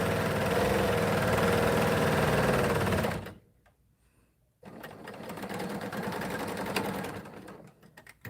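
Sewing machine, a cover-stitch type, stitching fabric in a steady continuous whir that stops briefly, then restarts and runs on before trailing off.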